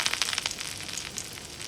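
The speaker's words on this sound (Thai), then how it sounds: "พอน้ำมันเริ่มร้อนก็ใส่กระเทียมสับลงไปผัดให้มีกลิ่นหอม" Chopped garlic fries in hot oil in a pan for beef fried rice, giving a brief, close, steady crackling sizzle with no voices.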